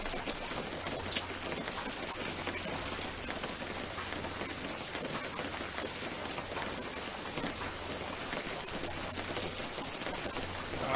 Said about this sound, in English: God, I hate the rain.